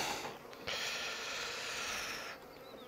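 Honeybees buzz around a beekeeper inspecting nucleus hives, a steady close hum with a brief rubbing or scraping noise from the hive work.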